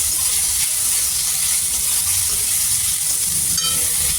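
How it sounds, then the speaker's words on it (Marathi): Tomatoes sizzle steadily in hot oil in a pan with garlic and ginger pieces for misal, a loud, continuous close-up frying hiss with no talking. "आता आपण यामध्ये टमाटर टाकून घेऊ आणि याला दोन मिनटं परतून घ्यायचं"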